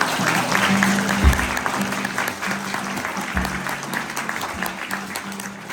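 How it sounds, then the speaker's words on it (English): Audience applauds steadily for a Maori performing family at a cultural show, a dense wash of many hands clapping that holds for the whole stretch, with a low hum and a couple of dull thumps underneath. "a big round of applause for my wonderful family"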